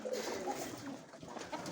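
Soft pigeon cooing, a few low throaty calls close by, brief and somewhat muffled among light background noise.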